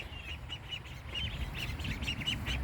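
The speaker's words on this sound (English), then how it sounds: "The babies are the ducklings." Young ducklings in a barnyard pen peep in rapid, high chirping bursts, close and continuous, growing busier toward the end.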